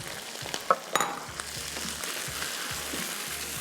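Boiled meat fries in a pan with garlic ginger paste for an aloo matar biryani, a steady close sizzle broken by a few sharp clinks and stirring scrapes.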